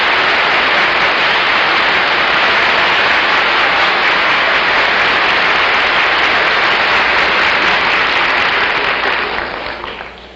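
A television studio audience at the 1950s panel show I've Got a Secret breaks into loud, sustained applause, a steady wash of clapping that holds for about ten seconds before beginning to fade at the end.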